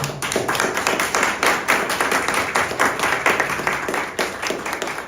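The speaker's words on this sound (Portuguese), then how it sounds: "Aplauda Jesus para essa palavra." A church congregation claps together during a worship service, quick overlapping handclaps in a loose repeating rhythm that keep going for about five seconds.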